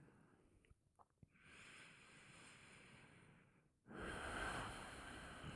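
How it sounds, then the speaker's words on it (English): Soft, oceanic Ujjayi yoga breathing: a long, hushed exhale followed by a fuller, louder breath, each a steady airy rush heard close in a quiet room. "So we're going to be producing this oceanic sounding breath. This is the Ujjayi breath."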